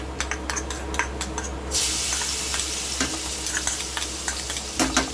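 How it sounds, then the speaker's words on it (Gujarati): Mustard seeds and cumin crackling in hot oil in a pan for a Gujarati dish, with dense sharp pops and sizzle throughout and a brief stirring scrape partway through, close and alone. "આ રીતે રાઈ જીરું કકડે"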